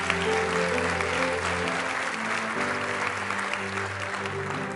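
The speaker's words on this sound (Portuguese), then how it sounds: "Você pode dar uma salva de palmas para Jesus aí" A church congregation at a cell-group conference claps, a diffuse patter of many hands under sustained music chords, moderately loud and steady.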